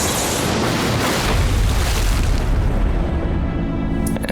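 A lightning strike on a fishing boat produces a loud, sustained booming roar that fills the whole moment and fades slightly toward the end, close and overwhelming.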